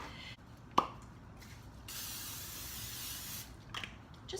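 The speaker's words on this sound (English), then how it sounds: "just lightly spray it, and then I'll dump it right there on the tray." A short pump click, then a sustained hissing spray of cooking spray from an aerosol can onto a tray lasting a couple of seconds, followed by a few faint clicks.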